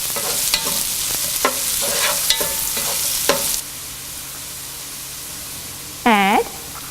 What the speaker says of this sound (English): Saute until their raw smell leaves.